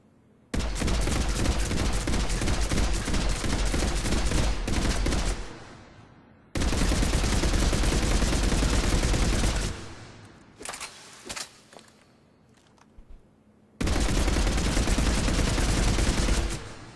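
Revenant machine gun in Mass Effect 3 firing full auto in three long, loud sustained bursts, with a few short scattered shots between the second and third bursts.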